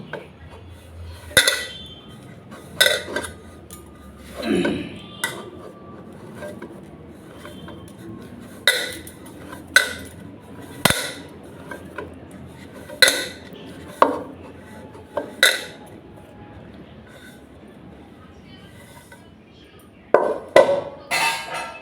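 Metal plates and dishes clink and clatter in a home kitchen as a plate is set over cooked food, with sharp separate knocks spaced every second or two across the scene.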